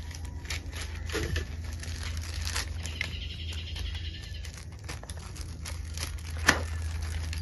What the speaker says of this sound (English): now I'm going to cover with a little bit of plastic. I have a small plastic bag here.